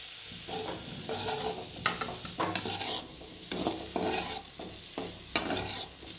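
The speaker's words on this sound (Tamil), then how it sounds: "நல்லா லோ ஃப்ளேமில் வச்சுட்டு இந்த பன்னீர் போட்டுடலாம்." Paneer cubes frying on low flame in a pan of oil, a steady soft sizzle broken by repeated stirring scrapes that come in rhythmic bursts, close and fairly quiet with no voices.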